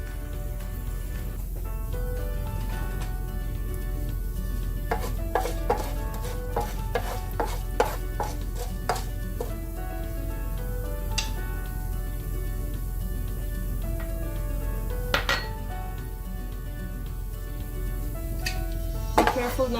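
Lentils fry in a pan for an okra and scrambled egg stir fry, stirred with a utensil in irregular scraping clicks over a low sizzle, with a voice at times.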